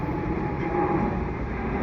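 A freight train rumbles steadily past at close range, a continuous low rolling roar of auto rack rail cars.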